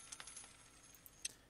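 Coins being cashed in within the video game Island Warfare, giving a quick run of small bright metallic chimes, a handful of soft clinks followed by one sharper ding, faint and close.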